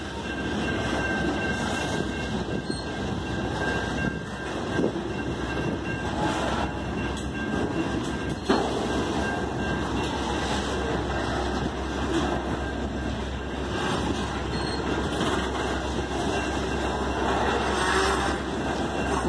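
A Canadian National freight train rumbles past in Effingham, Illinois, steadily and continuously, loud and close, with metallic wheel squeal and a brief clank partway through; no one speaks.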